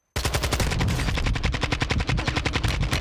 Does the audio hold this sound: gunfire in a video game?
yes